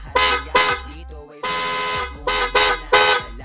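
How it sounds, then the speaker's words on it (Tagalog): A loud, harmonically rich motorcycle horn honks in a rhythmic pattern of short and long blasts, close and piercing, with brief gaps between. "narinig nyo kung gaano kalakas yung ating busina"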